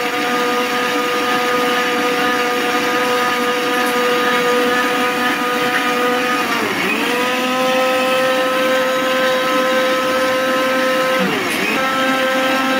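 A kitchen blender whirs steadily, loud and close, while blending raw green mango juice, its motor pitch dipping briefly twice as the load shifts, with no talking.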